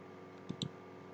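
A computer keyboard's Enter key is pressed, two quick faint clicks in close succession against a quiet background hum.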